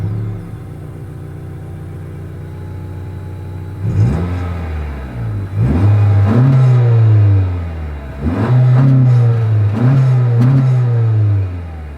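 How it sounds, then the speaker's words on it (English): A 2024 Honda Accord's exhaust idles low, then revs repeatedly in several loud bursts, each swelling and dropping back to a deep rumble, with no talking. "here is that exhaust clip"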